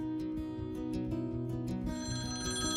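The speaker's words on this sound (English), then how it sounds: "The phone would ring, and whoever was closest just picked it up." An old 1980s home telephone bell rings continuously, a steady metallic trill that stays fairly loud and even throughout.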